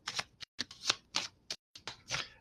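A deck of tarot cards is shuffled in quick riffling bursts, several short flurries of crisp papery flicks with brief pauses between, close up.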